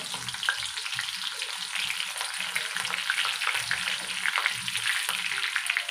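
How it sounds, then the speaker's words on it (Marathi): Chillies fry in about four spoonfuls of hot oil in a kadhai, a steady crackling sizzle heard up close with light stirring scrapes and occasional spatters, moderately loud and unbroken, with no voices. "आपण जी मिरची घातली होती ती आपण घालूया त्याच्यात."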